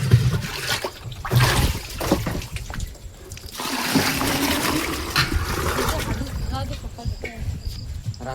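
Water pours straight from a pipe into a metal pot at night, a continuous splashing rush that rises and steadies as the vessel fills, with brief talk nearby.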